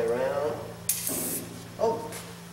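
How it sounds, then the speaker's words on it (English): Short bursts of aerosol cleaner hiss as a Glock G26 handgun barrel is sprayed down, two close spray blasts over low background hum, with a voice talking briefly at the start. "And we'll just spray this barrel down, top and bottom, all the way around."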